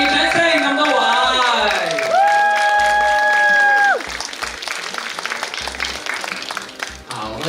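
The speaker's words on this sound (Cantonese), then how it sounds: "來個熱掌聲咁多位" Audience applause and cheering at a Hong Kong film roadshow for the comedy Kung Fu Soccer, a dense crowd clapping throughout with a sustained tonal sound partway through and voices mixed in.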